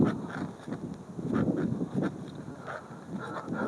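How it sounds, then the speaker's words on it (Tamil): Strong wind gusts buffet the microphone on a hillside between Ooty and Kotagiri, a rumbling, uneven roar that rises and falls in waves. "காற்று கொஞ்சம் பலமாகவே அடிக்குது"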